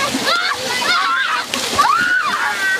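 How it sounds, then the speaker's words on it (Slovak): Children splash and slosh in a shallow stream running through a Roma settlement near Prešov, Slovakia, on a hot summer day, with continuous close watery splatter and excited young voices shouting over it. "kúpu sa priamo v potoku, ktorý preteká osadou"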